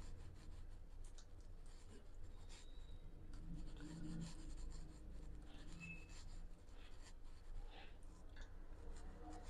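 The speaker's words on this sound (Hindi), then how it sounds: "इस पे शामिल करेंगे केचप, मायोनीज," Ketchup and mayonnaise being rubbed by hand across an egg paratha for an egg roll: a steady, soft, close-up smearing and scraping texture that runs evenly throughout, with no talking.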